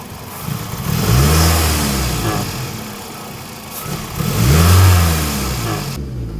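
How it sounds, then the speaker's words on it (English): A car engine with multiple random misfires revs up twice, each acceleration swelling unevenly and stumbling as it hesitates before building, loud and close with no talking. "I can accelerate it for you guys and you can see how it accelerates. It hesitates upon acceleration."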